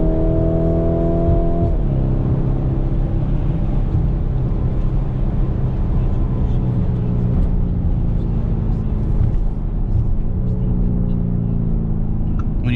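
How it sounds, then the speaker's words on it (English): Lamborghini Urus SUV from 2019 driving with loud exhaust and throttle blips, a deep engine note that rises and falls through gear changes, heard from inside the cabin while someone talks over it. "You can hear the exhaust, the throttle blips."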